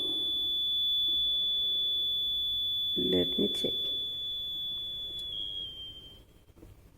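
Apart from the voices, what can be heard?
null detector tone while tuning Maxwell's bridge potentiometer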